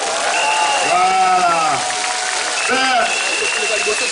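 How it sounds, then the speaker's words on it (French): An audience at a comedy show in Kinshasa applauds loudly and continuously, while a voice speaks over the clapping. "Ouais, applaudissez pour vous-même."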